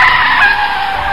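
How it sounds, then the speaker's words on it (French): A car's tires squeal in a loud, sustained skid lasting about a second, then cut off abruptly as the car collides with another car. No one talks. "tu entres en collision avec une autre voiture"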